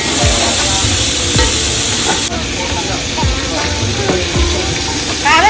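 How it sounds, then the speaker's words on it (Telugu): Tomatoes frying in a pan for village-style Telangana cooking give a steady loud sizzle and hiss, with occasional stirring knocks of a utensil against the pan throughout. "ఇప్పుడే టమాటా వేశారు"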